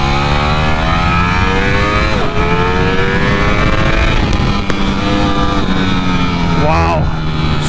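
A Ducati Streetfighter V4 motorcycle accelerates hard in first gear, its engine note climbing in a loud, rising whine with a brief dip and swell as revs build, close and continuous with wind rush.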